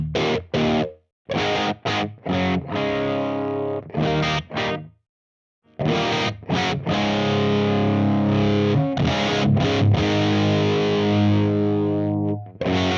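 Distorted electric guitar through a Universal Audio Lion '68 amp plugin, chopped chord stabs with gaps of silence, then a sustained ringing passage of crunchy, heavily driven chords, loud and alone without talk.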